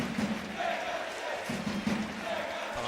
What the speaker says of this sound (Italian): a ricevere in particolare gli applausi dei propri beniamini